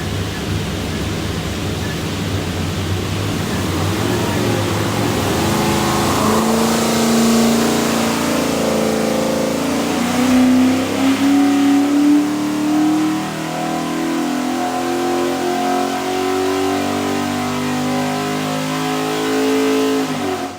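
A stacked 427ci Windsor V8 built for a Superformance Cobra and fed by a Holley Terminator X is run on a dyno, its loud, continuous roar climbing steadily in pitch through one long pull.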